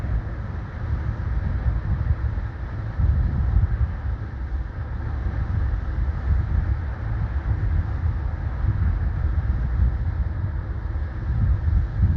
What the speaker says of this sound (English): here comes that crew change train